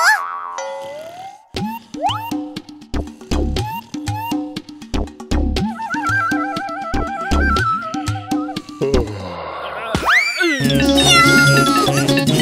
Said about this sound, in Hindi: यहाँ बिल्ली है